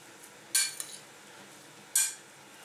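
Salad with small red pomegranate seeds is tossed with metal utensils in a dish, giving two sharp bright clinks about a second and a half apart, with a faint scrape between them.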